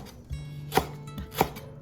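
Knife chopping through tough lemongrass stalks on a cutting board for tom yum goong: two sharp, loud, close chops spaced about half a second apart, over a low background hum.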